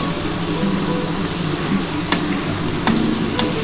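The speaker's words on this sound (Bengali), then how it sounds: "এটা একটু লাল লাল করে ভাজা করছি আমি কিন্তু সর্ষের তেলে করছি না এটা কিন্তু সাদা তেলে করছি" Teasel gourd and potato pieces fry steadily in hot white oil, a continuous close sizzle and crackle with a few brief sharp clicks of a utensil against the pan.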